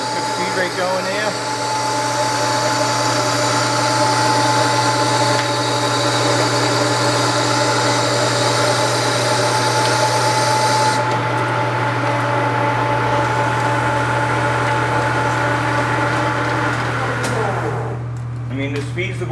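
A Leblond 19x50 servo shift lathe runs at speed, giving a steady, loud mechanical hum with a constant tone that holds evenly, then drops away near the end.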